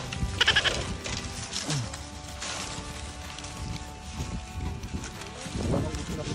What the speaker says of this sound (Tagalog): Guys, sobrang gutom na ito ng mga kambing na to.